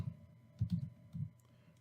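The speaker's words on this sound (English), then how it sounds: "once I'm through typing" Quiet, soft keyboard typing while entering text in Photoshop, a few light clustered clicks spaced irregularly over a low background hum, with no talking.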